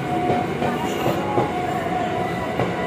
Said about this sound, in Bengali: এটা হচ্ছে বনগাঁর দিকে ট্রেন